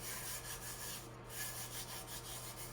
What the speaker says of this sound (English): So you just rub all over until there's not really any more glitter coming off.